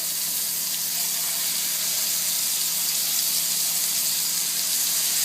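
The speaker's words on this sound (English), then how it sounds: "we've melted some butter and some oil in our hot pan, and we're just going to add our steaks" Steaks dropped into a hot pan of melted butter and oil, cooking at a camp-style setup with a loud, continuous, close sizzle that holds steady throughout with no voices.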